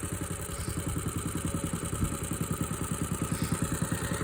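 An engine idles steadily while warming up ahead of cold, snowy weather, its even, rapid thumping pulses running continuously and loud up close, with no talking.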